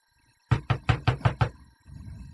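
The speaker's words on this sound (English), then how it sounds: "knock, knock, knock." Six firm knocks on a wooden door in a quick, even rhythm, close and loud against a quiet room, followed by a low rumble of background noise.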